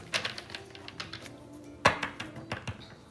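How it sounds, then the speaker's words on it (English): A deck of tarot cards being shuffled by hand, a run of quick papery riffles and flicks with one sharper snap near the middle, close and fairly quiet with no talking. "Let me shuffle this shit a couple times."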